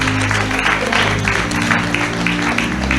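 A church congregation claps and applauds for Jesus, a loud, dense, continuous wash of hands that stays steady and close throughout.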